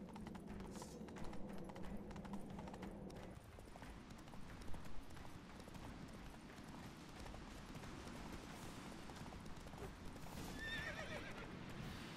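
Horse hooves clip-clop and pound at a gallop in The Witcher 3, with a horse whinnying, fairly faint and continuous for the whole stretch.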